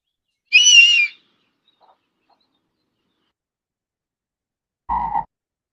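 A single short frog croak rings out in a quiet recording, followed after a long silence by a second, lower burst.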